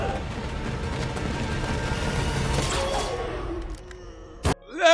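A grenade explosion and gunfire in a violent scene from Daredevil: Born Again: dense, loud rumbling bursts of fire fill the first seconds, then fade, ending in a sharp thud and a short crackle.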